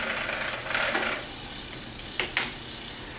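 A bike chain runs through a Park Tool chain cleaner, where foam and the rear gear scrub it with solvent, making a faint, steady ratcheting whir with a couple of sharper clicks near the end.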